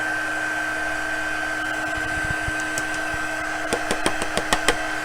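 A heat embossing tool blows steadily to melt embossing powder on a crafting project, a constant whirring hum running throughout with a few light clicks and taps near the end.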